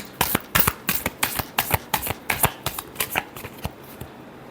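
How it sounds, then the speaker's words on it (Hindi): Tarot cards are shuffled close up in a quick run of about a dozen crisp riffling bursts that slow toward the end, with no talking. "last shuffle"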